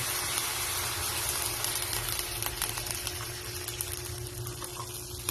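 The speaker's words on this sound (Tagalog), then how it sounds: "Pwede na po natin lagyan ng konting tubig." Water poured into a pot where chicken and chicken liver are frying for chop suey, giving a steady hissing, bubbling sizzle that stays even and close throughout.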